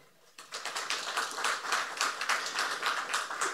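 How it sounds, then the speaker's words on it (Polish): At an energy-policy conference, a modest audience breaks into crisp, scattered applause after a brief quiet moment, the claps sounding close and dry throughout. "jeszcze raz wielkie brawa dla pana premiera"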